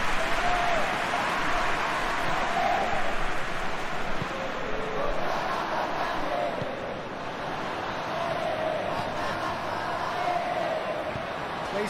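A stadium crowd in the PES 2021 football video game applauds and murmurs in a broad, steady wash of clapping and noise that carries on for several seconds.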